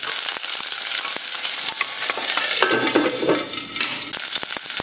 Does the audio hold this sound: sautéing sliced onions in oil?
yes